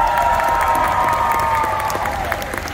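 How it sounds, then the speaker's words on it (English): An audience at Six Flags Fiesta Texas applauds Dr. D: a dense, steady wash of clapping with a few shouts, holding at an even level for under three seconds with no talk over it. "Give a big round of applause for Dr."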